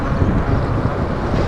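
Strong, cold wind outdoors buffeting the microphone, a dense continuous low rumble with no voices, steady and close throughout.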